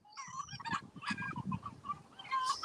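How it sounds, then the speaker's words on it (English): Chickens squawk and cluck close by in a burst of overlapping, agitated calls, some higher and sharper, with no talk. "I'm moving away from those squawking chickens"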